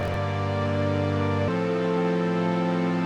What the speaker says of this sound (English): I've got this basic wavetable patch playing a really simple chord progression that sounds like this